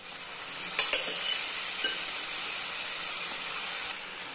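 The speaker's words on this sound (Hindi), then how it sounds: "लाल मिर्च को ऑनियन के साथ फ्राई कर लेंगे" Red chili powder frying with onions for a dhaba-style mutton masala makes a steady, close hissing sizzle with a couple of light spoon clinks early on. It drops slightly in loudness just before the end.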